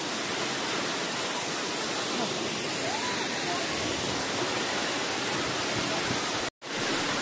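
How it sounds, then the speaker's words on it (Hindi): Waterfall beside the Mumbai-Goa highway near Mahad, with water coming down forcefully in a dense, constant roar close to the microphone, broken only by a momentary dropout near the end. "पानी काफ़ी फोर्स से आ रहा था।"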